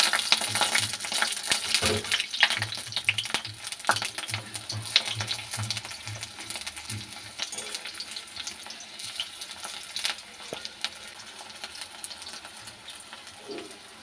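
Gram flour fritters (bora) fry in hot oil in a kadai, giving a continuous crackling sizzle with occasional sharper taps of a utensil turning them, fairly close and without speech.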